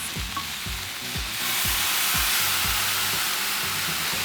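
Pork chops hitting a hot Blackstone griddle set to high, a loud sizzle that swells and then holds steady under a repeating low rhythmic thump, with no talking.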